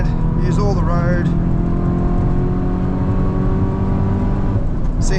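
A Hyundai i20 N or i30 N hot hatch accelerating in 5th gear up the long uphill stretch of the Nurburgring, a loud steady engine drone from inside the car with someone talking over it.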